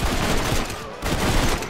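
Rapid automatic gunfire from a weapon in Red Dead Redemption, a dense loud burst of shots running almost continuously, with a brief gap near the middle before firing resumes.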